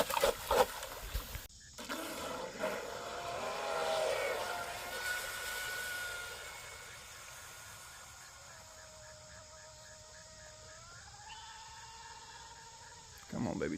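An RC speedboat with a 3816 motor whines across the water, a thin electric tone that rises and shifts in pitch as it runs at a distance, faint under outdoor hiss with some talk early on.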